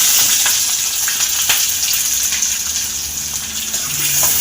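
Chopped onion frying with peanuts in a pan for poha, a loud, close, steady sizzle with faint crackles and stirring scrapes throughout.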